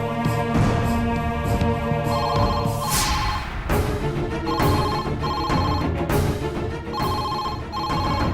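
A telephone rings in a Tamil domestic drama scene, its repeated electronic ringtone bursts sounding close and loud over a steady musical background, with no talk during the rings.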